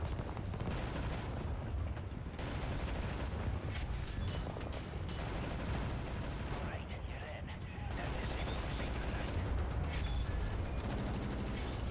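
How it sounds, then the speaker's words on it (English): Dense suppressing gunfire in a video game battle, continuous rattling bursts and booms filling the whole stretch, loud and close with brief shifts in intensity and voices mixed in. "Right, lads, you ready to lay down suppressor fire?"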